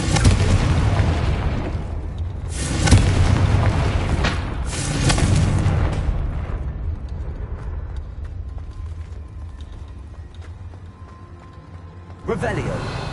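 Confringo explosion spell cast in the video game Hogwarts Legacy, heard as a deep, booming blast at close range that fades into a long rumbling tail, with game effects and a voice speaking over it.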